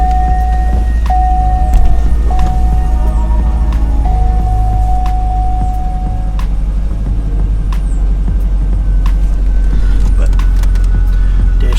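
A Cadillac CTS-V engine runs at a steady idle, giving a continuous loud low rumble throughout, with faint electronic tones and soft clicks above it.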